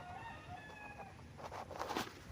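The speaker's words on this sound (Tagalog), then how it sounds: "Kasi may mga manok po doon na nandun po mga kapraps, nakatali yung mga manok." A rooster crows faintly in the distance on a farm in Pagsanjan, Laguna, with a few soft clucks over quiet outdoor ambience.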